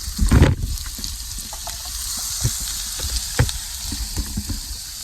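Vegetables sizzle steadily in a pan for brown stew catfish, a close continuous hiss with a louder burst at the start and scattered pops and crackles throughout, no talking.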